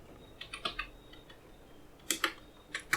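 Fingers type a Linux cp command on a computer keyboard in two short clustered bursts of crisp, close keystrokes separated by a quiet pause, with no talking.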